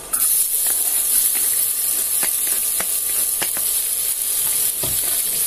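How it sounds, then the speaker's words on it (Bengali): Onion frying in a hot pan, a continuous loud sizzling hiss with occasional light spatula taps and scrapes, close up with no talking. "এবার পেঁয়াজটা দিয়ে দেব"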